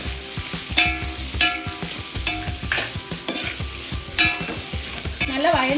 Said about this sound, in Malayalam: നമ്മൾ ഹൈ ഫ്ലെയിമിൽ ഇട്ട് നമ്മൾ വഴറ്റിയാൽ മതി